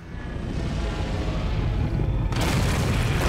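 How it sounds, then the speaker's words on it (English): A bomb explosion in the video game Tron: Evolution, a heavy rumbling boom that swells and sustains over a few seconds, loud and close, with a brighter crackling burst near the end and no talking. "And a bomb for good measure."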